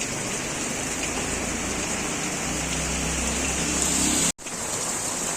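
Heavy monsoon rain pours down in a continuous, dense hiss that stays loud and steady throughout, with one brief dropout near the end.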